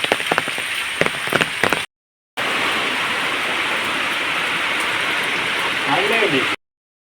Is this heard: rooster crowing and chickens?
no